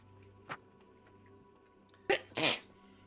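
A person sneezes: a small sharp burst first, then a louder, explosive two-part sneeze close to the listener in an otherwise quiet room.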